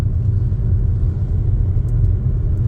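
A car drives in third gear along a narrow urban street, its engine giving a steady, loud low rumble that continues evenly throughout with no voices.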